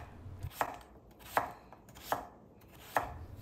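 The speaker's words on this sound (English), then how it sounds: "you can see here that I'm thinly slicing each piece" A knife thinly slices peeled potatoes on a cutting board, four crisp evenly spaced chops close up, each a short sharp tap with quiet between them and no talking.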